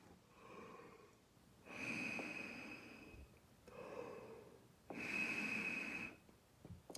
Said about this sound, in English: I like to take deep breaths, and it's very relaxed